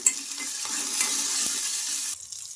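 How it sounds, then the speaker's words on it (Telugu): Garlic cloves with skins and cumin seeds frying in hot oil in a home kitchen, a steady bright sizzle with faint stirring, alone without voices. "ఇంకా ఇలా వేగుతుండగా ఇందులోకి పొట్టుతో సహా వెల్లుల్లి రెబ్బలు అయితే ఒక 4 వేసుకోవాలి."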